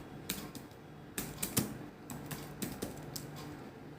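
Scattered keystrokes on a computer keyboard, close but soft, falling in irregular bursts of clicks with short pauses between them and no voices.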